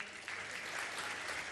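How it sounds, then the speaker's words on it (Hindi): Audience clapping for two girls at a religious discourse gathering, a steady wash of applause that swells after a brief start and continues evenly at moderate distance. "दोनों बिटिया के लिए तालियां बजाओ जरा"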